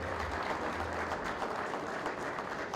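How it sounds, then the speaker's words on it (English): An audience at a live stage interview at the Race Retro 2014 show gives a round of applause for Andrew Whittaker, steady even clapping heard from a distance and fairly soft. "could we have a bit of appreciation for the man who saved Lister, Andrew Whittaker? Come on, give him a round of applause"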